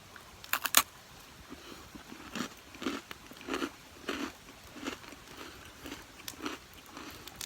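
Crunchy bites and chewing of a Mountain House freeze-dried ice cream sandwich on a solo backpacking trip, a few sharp crackling bites followed by a steady rhythm of close, moist crunching chews.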